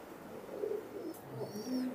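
Pure Aliwala pigeons give low, soft cooing calls nearby, a few brief murmurs over quiet background hiss with no talking.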